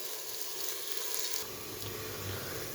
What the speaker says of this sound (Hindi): अब आपने प्याज़ों को अच्छे से फ्राई करना है